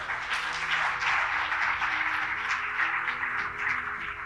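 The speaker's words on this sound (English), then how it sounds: "If you support this call, clap." Audience clapping in support at a Big Ideas Platform event in Nigeria, a continuous, even crowd of hands clapping, fairly loud and unbroken from start to finish.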